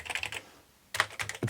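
Keys clacking on an Amiga keyboard fitted with new A1200.net keycaps, including a larger shift key: a quick cluster of close crisp taps, a short pause, then another burst of presses.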